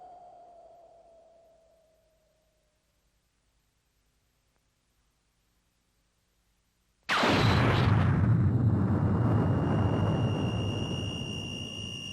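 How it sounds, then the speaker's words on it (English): A sudden massive blast from an atomic bomb dropped by a B-29 bomber over Hiroshima erupts after a fading tone and long near-silence, then roars on loud and broadband, slowly decaying. "an American B-29 bomber dropped an atomic bomb onto the Japanese city of Hiroshima"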